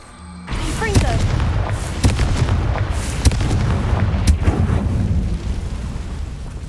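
A Confringo blasting spell explodes in the Hogwarts Legacy video game, setting off a loud, sudden boom followed by a sustained rumbling roar with several sharp crackling bursts throughout.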